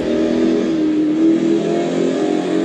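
Jaguar XF accelerating on a track lap, a steady close engine drone rising slightly in pitch as it pulls through the gear, loud and continuous with no voices.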